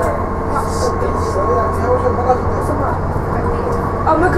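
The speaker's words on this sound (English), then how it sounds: "This train is for Canary Wharf." Docklands Light Railway train running toward Canary Wharf, a steady low rumble and rolling hum from inside the carriage, with passengers talking close by.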